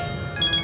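A telephone ringing indoors, a short bright electronic trill of tones, clear and close against a quiet background.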